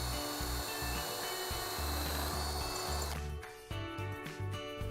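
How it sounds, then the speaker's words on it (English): A power drill bores through a metal mounting hole in an elevator ceiling leg, a loud, continuous whirring grind that shifts pitch partway through as the bit breaks through. "Using the ceiling leg as a template and the drill bit provided,"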